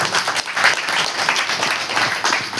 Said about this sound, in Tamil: எல்லாம் ஜோராக கைத்தட்டணும்.